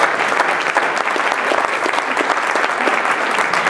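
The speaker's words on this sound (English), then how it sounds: "I want to give her a round of applause" An office summit crowd gives a round of applause, dense steady clapping that fills the whole stretch, loud and close, with no voices over it.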